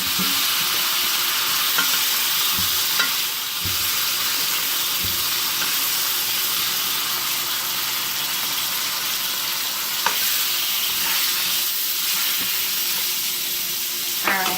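A T-bone steak cooked to about medium rare sizzling in a pan after being turned, a loud, steady hiss of frying that runs without a break, with a few faint clicks of a utensil, no voices.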